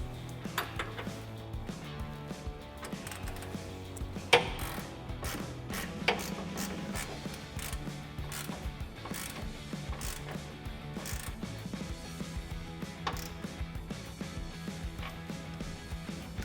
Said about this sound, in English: I'm gonna go ahead and grab a 21mm socket and we're gonna tighten it up